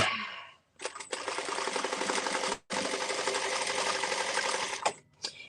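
An industrial sewing machine hums through free-motion dot-to-dot quilting on a baby quilt, two long continuous runs broken by a short stop, close and loud, with no voices.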